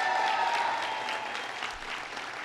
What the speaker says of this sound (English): Let's give the Borough President a big round of applause.